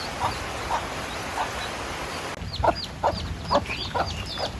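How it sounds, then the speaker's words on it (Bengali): Hen with chicks making soft, repeated clucks at a relaxed rhythm, with high thin cheeps from the chicks over them, close and moderately loud. "এই যে মুরগির বাচ্চাগুলো কত সুন্দর হয়ে গেছে"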